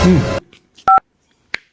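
A burst of voice gives way to a phone's keypad dialing tones: one clear, loud double-tone beep and a shorter second beep, separated by near silence.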